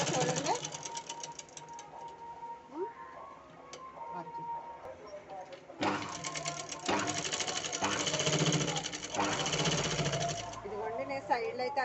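An Usha sewing machine stitches a blouse in close, loud runs of rapid mechanical clatter, pausing and restarting, with a person talking between and over the stitching.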